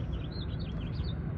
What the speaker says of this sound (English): I love birdsong,